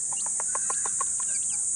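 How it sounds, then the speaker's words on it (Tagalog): Newly hatched chicks peeping in a quick series of about nine high, bright chirps, close by, over a constant high-pitched hiss. "Ito, bagong pisang sisiw."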